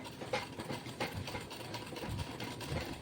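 A sewing machine stitches a lungi, its needle thumping in a quick, steady mechanical rhythm, faint and close, running continuously without speech.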